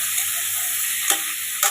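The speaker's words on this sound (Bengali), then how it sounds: "এরপরে আলু কপিগুলো ভাজা হচ্ছে দেখুন" Potatoes and cauliflower frying in hot oil with cumin and bay leaf, a steady bright sizzle up close with two short stirring scrapes.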